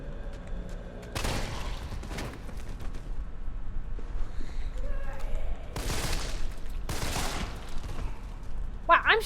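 Rapid weapon fire in Resident Evil 3 Remake, loud sustained bursts of automatic shots in several volleys with booming impacts, someone talking over parts of it.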